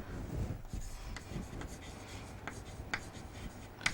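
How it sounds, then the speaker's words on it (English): Handwriting an equation for a flip-flop circuit lesson: soft scratchy pen or chalk strokes in short irregular bursts, faint and close with no talk. "So I am going to write, substitute"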